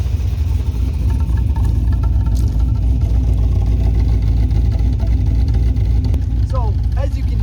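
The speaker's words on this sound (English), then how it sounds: "the noises coming out of this exhaust are not good" A loud, rough V8 engine in a Nissan 240SX rumbles continuously with a deep, uneven exhaust note, close up, with a couple of brief squeaky sounds near the end.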